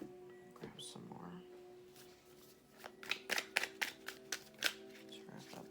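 Tarot cards shuffled and handled in brisk bursts, a run of sharp riffling snaps and flicks building near the end, with a faint steady hum underneath and some quiet shuffling before.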